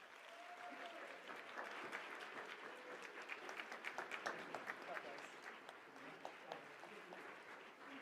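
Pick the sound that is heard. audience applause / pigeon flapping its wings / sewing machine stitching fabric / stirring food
audience applause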